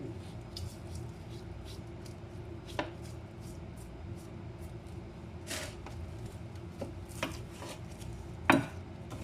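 A knife chopping and trimming fat off raw meat on a board, quiet irregular cuts and taps spaced every second or two, with one sharper knock near the end.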